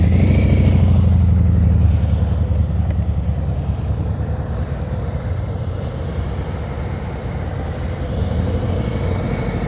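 A motorcycle engine idles and pulls steadily during an advanced slow-speed riding practice session in Illinois: a loud, close, continuous low rumble that is slightly stronger at the start and then holds at an even level.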